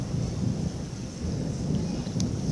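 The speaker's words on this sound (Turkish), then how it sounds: "Çok yağıyor. Şıkır şıkır gökler gürlüyor." Heavy rain hisses steadily with a low rolling rumble of thunder beneath it, continuous and fairly distant, with no voices.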